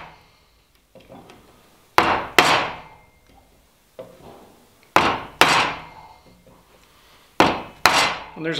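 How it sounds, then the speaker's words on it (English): A chisel struck by a mallet while cutting a timber frame brace, giving sharp, loud woody knocks in small clusters separated by pauses, close by with no talk. "It's a lot easier for me to watch that line if I'm holding my chisel straight up and down."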